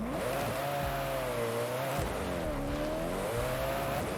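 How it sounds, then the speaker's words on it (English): A car engine drones steadily in Forza Horizon 5 during a top speed test run, its pitch rising and dipping in two long sweeps, loud and continuous with no talk over it. "So what we want to do now is just do a test run of the car."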